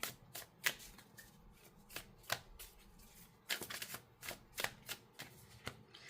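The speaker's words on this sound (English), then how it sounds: "It's hard to shuffle this deck." A tarot card deck is shuffled by hand in quick, close bursts of papery riffles and soft slaps, an irregular patter of sharp card strikes over a quiet room.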